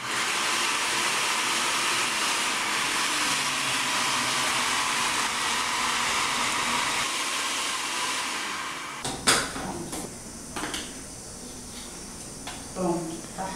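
A kitchen blender whirs continuously while pureeing eggplant pâté, a loud steady motor drone that cuts off near the end, followed by clatter and a voice speaking.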